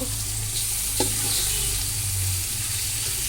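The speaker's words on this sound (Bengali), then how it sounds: "সবগুলো মাংস আমি দিয়ে দিলাম। এখন একটু নাড়াচাড়া দিব।" Chicken pieces for biryani being stirred in a pot, a steady sizzle of frying with a few scraping stir strokes, close and continuous with no voices.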